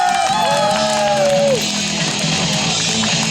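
An audience at a strongman sports event cheering and yelling in a steady, loud wash of crowd noise, with a whistle-like call sliding down early on.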